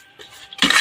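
Cooked rice tipped into a pot for chicken dum biryani, a soft scrape of metal followed by a loud, close clatter of a utensil against the pot at the end.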